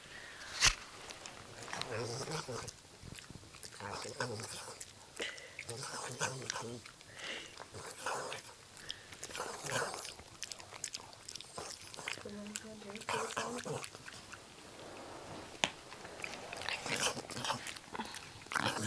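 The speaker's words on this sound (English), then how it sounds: "she's chewing it like as if she's old man with a piece of tobacco" A black puggle dog chews on something, with soft wet biting and crunching sounds repeating steadily up close, while someone talks over it throughout.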